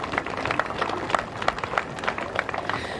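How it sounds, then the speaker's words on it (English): Fans at a surf contest award ceremony clap for themselves, a dense crackle of scattered hand claps with some louder individual claps standing out, held at moderate level over the whole stretch. "so give yourself a round of applause"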